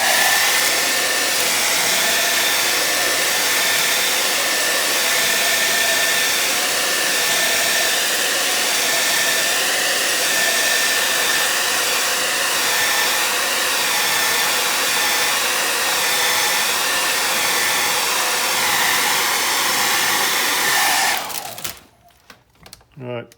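Handheld hairdryer blowing hot air onto old window tint film on a glass window, a loud steady close whoosh with a thin whine that runs unbroken for about twenty seconds before cutting off, followed by brief handling noises.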